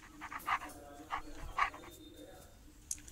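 A gray wolf gives a few short, whining calls, separated by brief pauses, at moderate distance against a quiet background.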